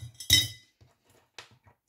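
2 euro coins drop into a piggy bank: one bright, ringing clink first, then a couple of fainter metallic taps in a quiet room.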